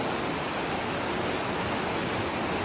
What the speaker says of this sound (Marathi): खूप मोठी नदी या ठिकाणी वाहत आहे